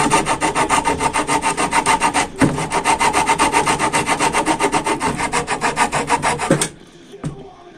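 A handmade hand fretsaw blade cuts with fast, even back-and-forth rasping strokes. The steady rhythm is briefly interrupted once, then the sawing stops and is followed by a couple of faint knocks.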